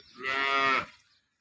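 A cow with her calf nearby, in a village in Tharad taluka, Banaskantha, lets out a single drawn-out moo lasting about a second, close and clear against a quiet background.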